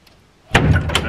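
A barn door is drawn shut by a door puller, giving one sharp, loud thud and rattle close by after a quiet moment, with a brief scrape trailing off.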